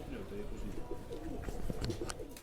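Shahjahanpuri pigeons cooing in low, rolling murmurs, close by, with faint rustling and scattered chirps in the background.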